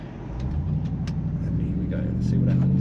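A supercharged car engine pulls hard under full throttle, driven in manual mode on the way into a 90 km/h zone, a steady, loud low rumble that builds toward the end with a rising harmonic whine.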